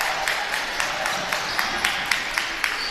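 Sharp hand claps ring out in a steady, regular rhythm inside a high school basketball gym during a varsity game, moderately distant over a low crowd murmur.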